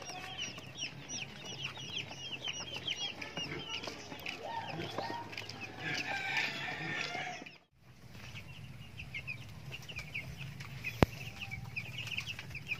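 Vaccinated chickens and chicks on a poultry farm, about 15 days old, making a steady background of clucks and peeping, with a brief drop to near silence partway through and a sharp tap near the end.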